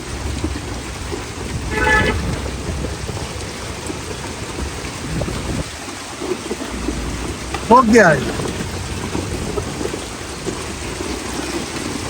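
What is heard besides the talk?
heavy hailstorm with large hailstones falling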